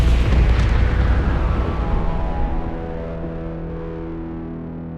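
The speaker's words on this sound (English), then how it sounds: "The resulting explosion shocked my entire body." Loud sci-fi explosion effect as a laser blast destroys a spacecraft's auxiliary thruster, a heavy distorted boom that rumbles and slowly decays over several seconds with no talk.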